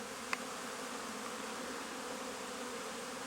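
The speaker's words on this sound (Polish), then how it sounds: "Pasieka tętni huczy." A dense, continuous buzzing hum of many honeybees swarming around an apiary, with a brief faint tap near the start.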